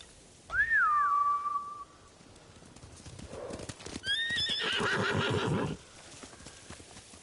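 Horses in the video game Ghost of Tsushima, a loud close whinny followed by a second neigh and a rapid clatter of galloping hooves that fades after a few seconds.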